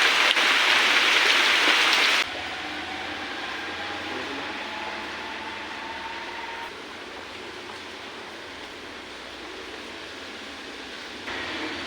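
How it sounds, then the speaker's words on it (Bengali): Heavy rain pours in a dense, continuous roar, loudest in the first couple of seconds before settling into a steady, even downpour. "এমন বৃষ্টি পড়লে কাজ করবে না করে মানুষ বৃষ্টির জন্য কাজই করা যায় না"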